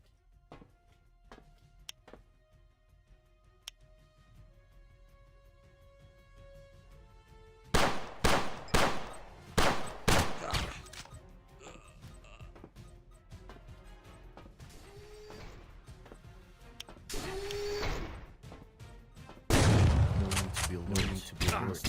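Gunfire from the video game Agent 07: Spy Revenge: after a quiet stretch of scattered tones, bursts of rapid shots and crashing impacts erupt loud and close, with further blasts near the end.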